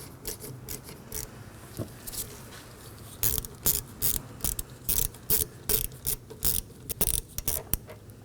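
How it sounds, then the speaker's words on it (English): Ratchet and socket breaking loose a 12mm rear brake hose bolt on a 2015-2023 Nissan Maxima, a close, loud series of rhythmic ratcheting bursts that speed up into regular repeated strokes. "This is a 12mm. So use a ratchet and socket. Break it loose."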